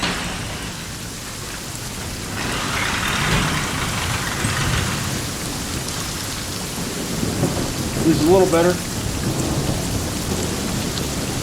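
Thunderstorm with heavy rain, rolling thunder and pea-size hail, a loud steady downpour with rumbles throughout and a brief spoken remark partway.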